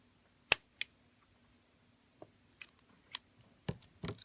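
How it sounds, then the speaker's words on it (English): Scissors snip the strings on a glitter mermaid Christmas ornament, a few sharp separate cuts near and clear, followed by softer handling clicks and rustles in a quiet room. "then we're going to trim these strings"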